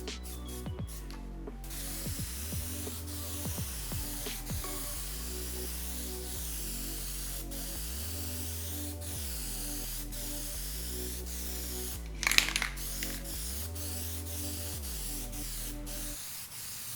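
Aerosol Plasti Dip rubber coating sprayed onto a detached kayak part for a fifth, final thick coat, a steady continuous hiss running nearly the whole stretch with a brief louder burst near the end, no talking.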